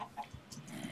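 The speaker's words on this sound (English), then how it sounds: "There's loads of chickens here that I want to get." Chickens cluck softly in a Minecraft survival game, a few short, faint bird calls scattered over a quiet background with no speech.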